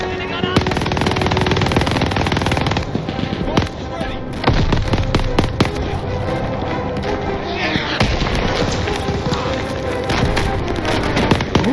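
Turret machine-gun fire in a Call of Duty Vanguard campaign battle near an airport: loud, sustained rapid bursts with booming impacts and explosions, a player's voice talking over the gunfire.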